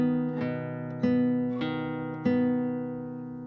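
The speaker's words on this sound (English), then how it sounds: "we're going to use our index finger on the 2nd string plucked open so that it sounds like this" A classical guitar is plucked with thumb and index finger, alternating a low bass string with an open second string in an even, slow pattern of four ringing notes that decay between plucks.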